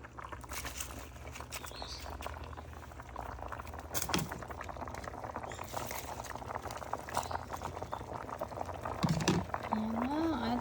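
Nilaga (boiled meat soup) bubbles and churns at a steady boil in a pot, a continuous crackling simmer with brief faint voice sounds near the end.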